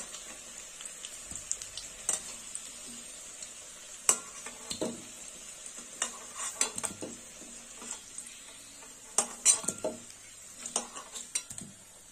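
Chunky Chandramukhi potatoes frying in oil in a pan, a steady sizzle broken by scattered scrapes and clinks as they are stirred and turned, close by with no talking.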